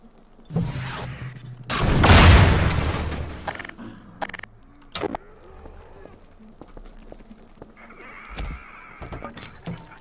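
A loud, close shotgun blast from the video game Half-Life 2 Episode One, followed by scattered impacts, thuds and game effects, with a short voice sound near the start.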